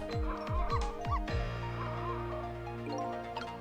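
A dog in the video game Ghost Trick: Phantom Detective barks in a quick run of four or five sharp yaps, then the game's music carries on alone.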